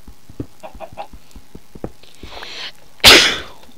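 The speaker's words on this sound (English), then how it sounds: "Oh, come here, Mr. Chicken, I'm gonna punch you." A Minecraft chicken in the Hexxit modpack gives a run of short, soft clucks, followed by a louder, abrupt burst of noise near the end.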